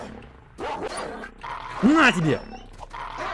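Dogs barking and yelping in the shooter game S.T.A.L.K.E.R.: Lost Alpha, short close cries mixed with gunfire-like noise while someone talks over them.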